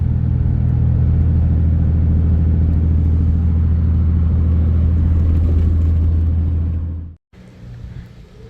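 A car cruises along a valley road toward Packwood with a loud, steady low engine and road rumble heard from inside, then cuts out abruptly near the end and returns more quietly.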